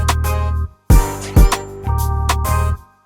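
Orchestral hit samples in a 2000s R&B beat sound as loud, punchy stabs with deep low end. They play over a sustained bass-heavy chord pattern, with short gaps and a sharp accent mid-phrase.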